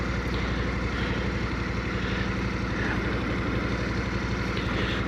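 Aprilia RST 1000 Futura motorcycle engine while riding, a steady close-up drone with a throbbing low rumble and wind-like hiss, constant in loudness throughout.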